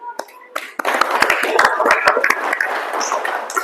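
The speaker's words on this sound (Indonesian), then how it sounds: "Tepuk tangannya." Students clapping in a classroom, a few sharp separate claps at first, then a louder patter of many hands that carries on, with some voices mixed in under it.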